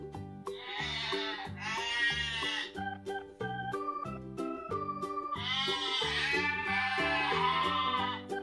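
A sheep bleats in two long wavering calls and then two more, close and clear, over a soft rhythmic musical background.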